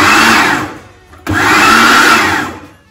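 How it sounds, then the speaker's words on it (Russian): A food processor mixing flour, salt and icing sugar. It gives a loud whirring run, pauses briefly, then whirs again close up. "В кухонный комбайн высыпаю муку, щепотку соли, 2 столовые ложки сахарной пудры и перемешаю эту смесь"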